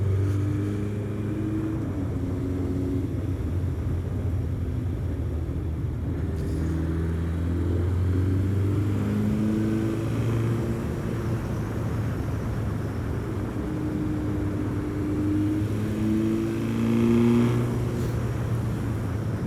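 A 1985 Suzuki GSX-R slabside streetfighter motorcycle engine idles steadily with a low, even rumble throughout, close and unbroken, with no talk.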